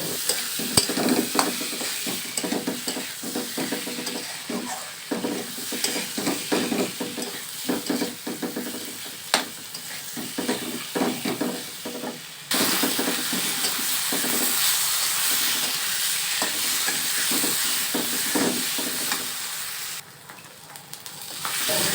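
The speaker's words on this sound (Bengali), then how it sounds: "দিয়ে সুন্দরভাবে কিছুক্ষণ ধরে কষিয়ে নেব আমি" Spices with turmeric and dried chili paste sauté in a pan with a close, continuous sizzle and rapid repeated stirring scrapes, the frying hiss growing steadier and fuller partway through.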